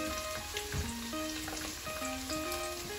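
Tomato puree sizzles in a hot pot while Jollof rice is being cooked, giving a steady, close crackling hiss with scattered pops and a faint tonal hum running underneath the whole time.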